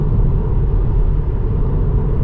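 Inside a Tesla on Autopilot cruising at about 90 on a road, a loud, steady low rumble of tire and road noise fills the cabin without a break.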